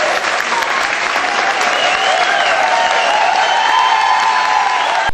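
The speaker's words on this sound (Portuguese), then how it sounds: "a professora Maria Alice Lima foi empossada no cargo sob muitas palmas." An audience at a municipal education secretary's swearing-in ceremony at city hall applauds warmly, with loud, sustained clapping and a few cheers filling the room throughout.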